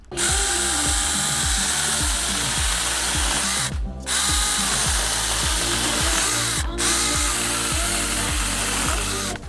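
An AVANT cordless mini chainsaw runs near and loud, its motor whining with a rapid regular chattering pulse, cut by two brief pauses.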